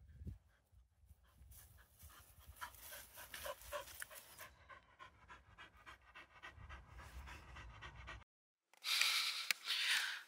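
A dog panting rapidly and sniffing at close range in a sunny new-build garden, steady breathy bursts continuing for several seconds before a brief pause and a louder rush of huffing at the end.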